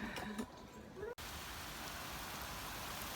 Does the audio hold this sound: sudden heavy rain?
yes